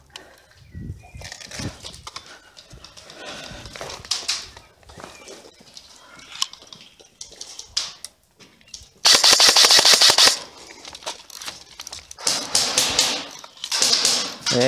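Gunfire in a video game battle, with loud, rapid bursts of automatic shots. They come in two distinct volleys after quieter stretches of in-game noise.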